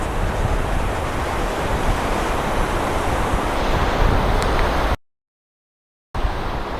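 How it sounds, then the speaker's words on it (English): Ocean waves wash continuously onto a Los Angeles beach, a loud, dense roar of surf with some wind noise, broken by a brief gap of silence, with no one speaking. "These aren't really surf waves."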